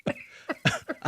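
A man coughs about four times in quick succession, close and fairly loud, as if clearing dust from his throat.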